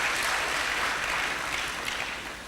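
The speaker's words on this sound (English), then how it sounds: "Please let's give him a round of applause." Applause from a university audience at a medical sciences event, a dense steady wash of clapping that carries on for a couple of seconds and tapers slightly at the end.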